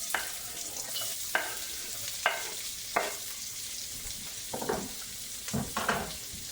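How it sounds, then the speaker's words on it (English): Onions and ginger hitting hot oil in a pan, giving a steady sizzle and frying hiss with several sharp stirring scrapes and clatters at irregular intervals, close and moderately loud. "Into that we're going to add our onions and our ginger."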